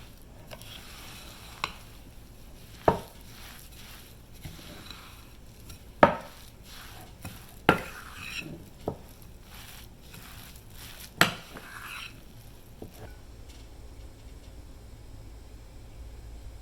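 Crab cake mixture being mixed by hand in a bowl, with scattered sharp knocks and clatters of a utensil against the dish between quieter stirring sounds and a faint background hiss.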